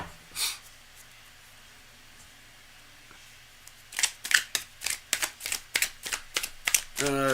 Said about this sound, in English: Cards are well shuffled.